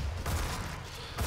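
Gunfire in the video game DOOM, a dense burst of shots in hell, loud and continuous with no talk over it.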